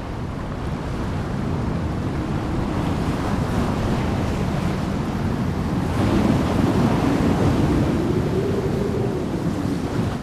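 Stormy-season Atlantic surf and wind at a grey seal nursery, a dense, steady roar of breaking waves and gusting wind buffeting the microphone, loud and continuous with a slight swell near the middle.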